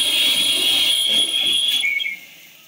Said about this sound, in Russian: Турбина сейчас свистила, да? Вот турбина работает.